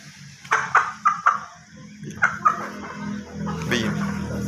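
A red Sindhi breed hen gives several close, short clucks in quick clusters over a low background hum.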